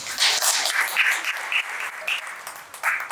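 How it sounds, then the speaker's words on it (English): An event audience at T-Hub in Hyderabad claps in tribute to APJ Abdul Kalam, with moderately loud applause and scattered individual claps standing out from the crowd. "I want to give a big round of applause for APJ Abdul Kalam."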